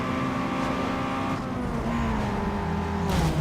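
Race car engine in a Need for Speed Underground 2 drag race, a steady loud roar with shifting pitch as the car accelerates, and a brief burst of tire noise near the end.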